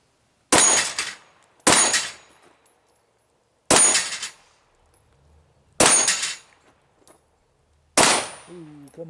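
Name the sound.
pistol shots hitting steel targets, Glock 34 and Sig P320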